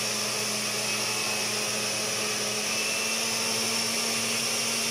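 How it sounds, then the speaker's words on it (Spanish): A kitchen blender whirs steadily at a constant pitch, a sustained motor drone with no breaks, fairly close and alone without talk. "Y ahí es el ruido de la licuadora"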